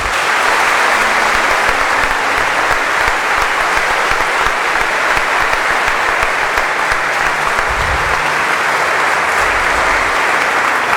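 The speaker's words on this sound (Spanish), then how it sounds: "Démosles un fuerte aplauso." A congregation applauds during a Sunday Mass in a cathedral, a loud, sustained wash of many hands clapping that holds steady for the whole stretch with no speech.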